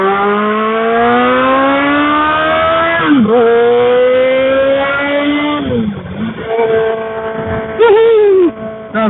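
A 1999 Suzuki Katana 600 motorcycle engine revs up through the gears in traffic, its whine rising steadily, dropping at each shift, then climbing again with short throttle blips near the end, loud and close.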